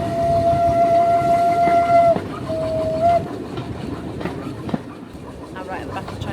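A long heritage train on Peak Rail in Derbyshire rumbles along, heard from the last carriage, with a steady low rolling drone, a sustained whistle-like tone that breaks off and resumes, then fading clatter.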